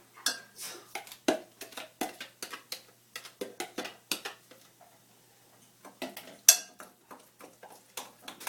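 Butter, applesauce and honey being stirred in a bowl, a utensil scraping and clinking against the sides in a steady run of close, crisp taps with a brief pause midway.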